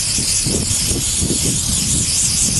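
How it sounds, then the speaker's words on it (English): A steady hiss of brake cleaner spraying from an aerosol can onto a stain, continuous and close, with no pauses and no voices. "With just a spray of some brake cleaner or any type of solvent or degreaser"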